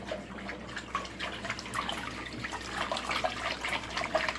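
Uncooked rice is swilled round by hand in water in a kitchen sink bowl, a faint, continuous sloshing and trickling with soft splashes, no voices.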